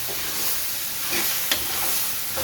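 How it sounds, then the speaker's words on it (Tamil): Chicken frying in a pan with masala, stirred lightly so a steady close sizzle and hiss carries on, broken by scraping stir strokes and a sharp clink at one point, with no voices. "லைட்டாக கிண்டி விட்றேன்."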